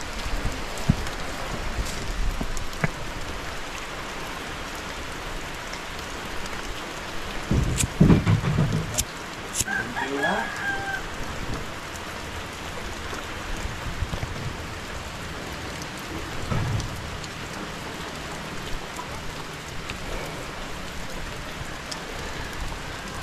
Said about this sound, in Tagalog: Umuulan mga kawords.